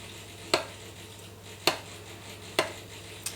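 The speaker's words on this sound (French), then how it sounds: "Il faut bien tout mélanger." A spoon stirs a thick Greek yogurt sauce in a bowl, making three or four sharp, evenly spaced scrapes or taps against a quiet background. No voices are heard.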